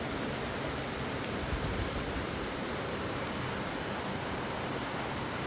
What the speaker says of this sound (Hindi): बहुत तेज़ बारिश हो रही है और मौसम देखो